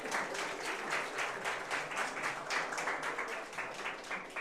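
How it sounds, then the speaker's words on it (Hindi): Audience applause fills a hall during a NEET and JEE career counseling seminar, a steady wash of many hands clapping at moderate distance with no talk over it. "इस बच्चे के लिए जोरदार तालियां।"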